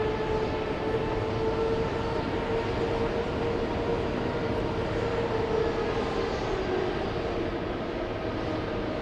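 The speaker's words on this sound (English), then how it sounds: "Big plane. Starting to taxi," A big passenger plane starts to taxi at an airport, heard as a loud, steady jet engine roar with a constant broadband rumble and faint tonal whine, unbroken and fairly distant.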